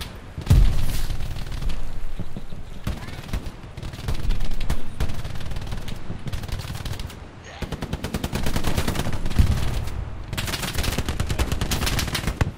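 Gunfire in the World War II shooter Hell Let Loose during a Utah beach offensive, with continuous rapid machine-gun bursts and loud individual shots, heavy and near, broken by brief lulls.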